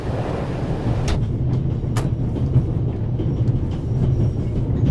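Train rolling on rails in a video game, a steady low rumble of wheels and carriage with a few sharp clicks, continuous and fairly loud throughout, no talking.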